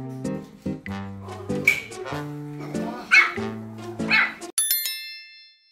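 Pomeranian dogs barking indoors at a visitor, a rapid run of high, yappy barks from close by with a few whimpers mixed in, then a brief ringing chime at the end.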